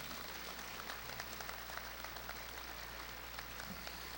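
Faint, distant applause from a crowd at a lecture event as the next entertainer is brought up, a thin continuous patter of clapping over a low steady hum.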